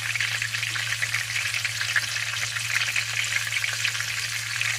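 A pork chop fries in very hot oil with a constant, close crackling sizzle over a low steady hum, and no one speaks.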